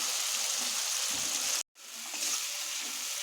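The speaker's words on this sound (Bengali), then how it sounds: "মশলাটা আমি ভালো করে কষিয়ে নেব" A ground paste of green chilli, ginger, cumin, dried chilli, coriander powder, sesame and cashew fries in a pan for a vegetarian Bengali jackfruit kofta curry. It gives a steady, close sizzle that cuts out briefly partway through, then resumes.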